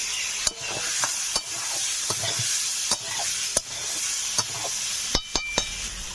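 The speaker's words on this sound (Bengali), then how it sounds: "মশলা ও আলু ভালো করে কষে নিয়েছি" Boiled potatoes and spices frying in a pan, heard as a continuous bright sizzle with sharp intermittent spatula scrapes and stirs, close up and without voices.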